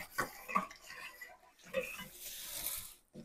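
A metal utensil stirring in a container while a primitive gourd decoration is being made, with a few distinct scraping and clinking strokes spaced out between quiet gaps.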